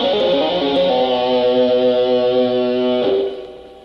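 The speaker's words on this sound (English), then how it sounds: "show you what you can do with that same lick using all 4 of your fingers on your right hand" Electric guitar with distortion plays a fast rock lick using four right-hand fingers, steady, loud and close, then cuts off near the end.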